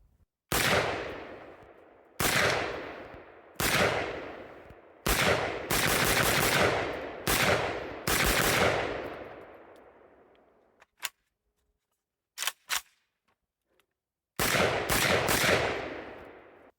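AK rifle fired outdoors in a series of loud, sharp single shots with ringing echo tails, some in quick pairs, with brief pauses and a final rapid pair, no talking.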